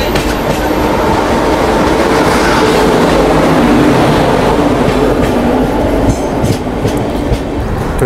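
Sampark Kranti Express train rushing through Mathura station at speed without stopping, a loud, steady roar of wheels and carriages with rhythmic clatter continuing close by for the whole stretch.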